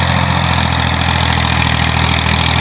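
A Massey Ferguson 240 tractor engine pulling an 18-disc harrow runs close and loud, a steady rhythmic diesel chug with a low throbbing hum and no talk over it.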